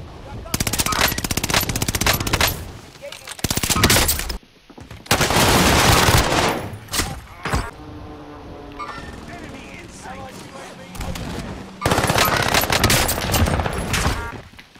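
Rapid bursts of automatic gunfire and sharp sniper shots in a shooter video game, loud and close, coming in long runs broken by short gaps, with players talking over the action.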